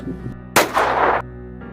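A single loud gunshot cracks and booms close by, cutting sharply over steady background music with no talk.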